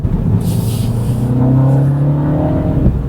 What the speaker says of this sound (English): I'm not crazy about the fake engine sounds.